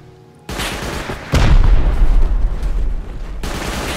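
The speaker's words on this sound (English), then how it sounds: "I hate auto turrets, man." Automatic auto turret gunfire in the game Rust, a loud dense burst of rapid shots with booming impacts that starts suddenly, swells heavier midway and then eases off, with no voices over it.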